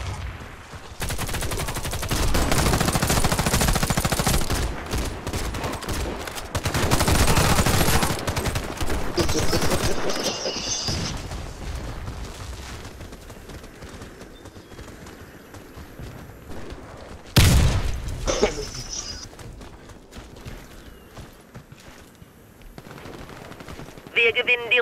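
Rapid automatic gunfire bursts in a bridge-map multiplayer shooter match, loud and close, alternating with quieter stretches, sharp single shots, and someone talking over the action.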